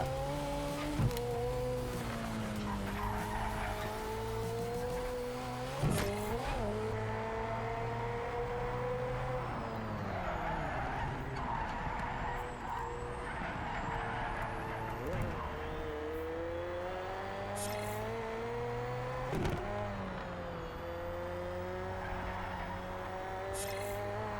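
A McLaren 720S races in Project Cars 3 in a custom event, its engine note climbing and dropping through repeated gear shifts, with occasional tire squeal, under someone talking throughout.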